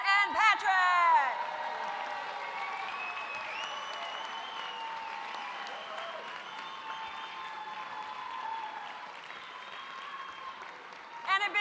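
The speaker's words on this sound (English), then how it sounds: "And a big warm round of applause for Al, Arake, and Carolyn." Audience at a live merengue dance show applauding in sustained, even clapping that runs for the whole stretch, with a brief voice heard at the start and again near the end.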